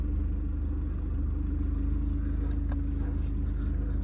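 A Volkswagen Passat 2.0 TDI diesel engine idles steadily just after starting, with a low, even rumble and a regular knock. It runs continuously, near and moderately loud, with no talk.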